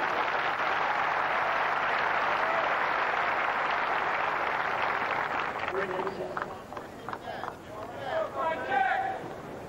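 A tennis crowd at a 1995 New Haven quarterfinal applauds in a long, dense, steady wash of clapping that fades near the end as a voice begins speaking over it.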